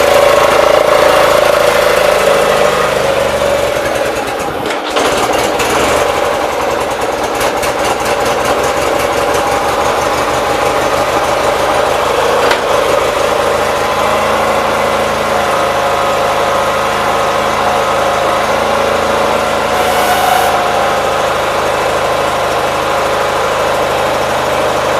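A 1976 Gravely 816 garden tractor engine idling steadily nearby, a loud, even mechanical drone with a constant vibrating hum and no talking.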